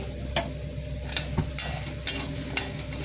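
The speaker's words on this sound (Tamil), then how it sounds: "இப்போ ஒரு ரெண்டு டீஸ்பூன் எண்ணெய் விட்டு கடுகு உளுத்தம்பருப்பு கடலைப்பருப்பு பாண்டி மிளகாய்" Mustard seeds, urad dal, chana dal and dried red chillies frying in a couple of teaspoons of oil give a steady close sizzle with several sharp pops and crackles spread across the moment, no one speaking.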